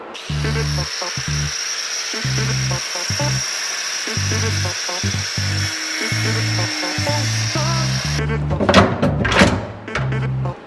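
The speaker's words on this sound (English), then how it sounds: "cut the rest out, and then went in with the grinder" Angle grinder cutting out fiberglass from a jet fuel tank during a land speed machine build, heard as a loud sustained whine with rhythmic low thumps beneath and a burst of rougher grinding near the end.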